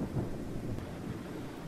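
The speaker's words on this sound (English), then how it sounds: "Take all your powers and face that terrible thunderstorm" Dense thunderstorm in a video game, a low steady rumble of thunder with rain hiss, loud and continuous throughout the short stretch.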